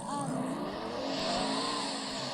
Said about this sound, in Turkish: Ben Bugatti'yle yarıştım.